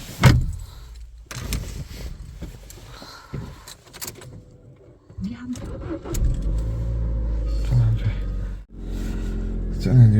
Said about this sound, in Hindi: चलें गाड़ी स्टार्ट करके देखते हैं।